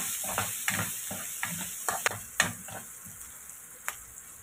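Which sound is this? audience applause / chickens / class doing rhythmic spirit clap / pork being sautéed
pork being sautéed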